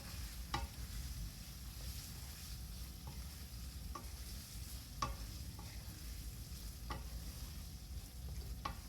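Soybean curry with ghee and garam masala being stirred in a pan: steady low frying sizzle with sharp spoon scrapes and taps against the pan at irregular intervals, close and fairly quiet, no talking.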